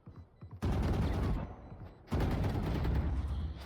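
Rapid gunfire bursts in a Valorant ranked match, two dense volleys of close, loud shots separated by a short lull, with faint talk at the start.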